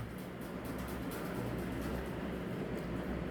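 A train rumbling past at a distance, a low continuous roar with a faint rhythmic clatter, steady and fairly quiet with no voices.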